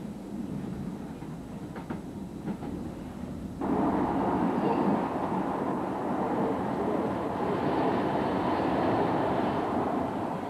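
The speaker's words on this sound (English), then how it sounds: "the metro runs over ground, travelling from the suburbs" A metro train runs over ground between Gateshead and Newcastle, a steady rumbling roll that grows louder and fuller partway through, continuous with no talk.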